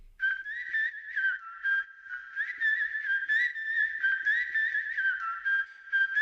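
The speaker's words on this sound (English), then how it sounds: "it's the whistle. I want to look at it, so let's listen." A whistled melody from the drop of an electronic music track, a clear solo line of rising and falling notes with short pauses, heard alone without effects.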